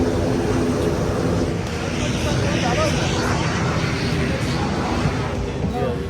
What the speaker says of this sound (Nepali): ल अब प्लेन चाहिँ उड्न लाग्यो, हिँडिरहेको छ होइन यस्तरी